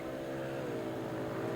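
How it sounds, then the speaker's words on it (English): Left-hand sidecar motorcycles rev their engines on the start line at the 2004 Biddenden Bandit grasstrack race, a layered droning engine tone that rises steadily and is heard at a distance under a commentator's voice. "Left-hand sidecars on the line. I can hear the revs are rising."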